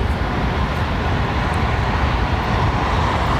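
A Boeing 787 Dreamliner at London Heathrow, its engines giving a continuous, loud broadband roar that holds steady throughout without voices.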